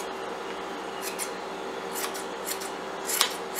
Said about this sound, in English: and then trim these ends